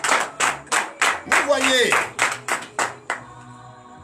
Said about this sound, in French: Nous donnons l'acclamation à Jésus.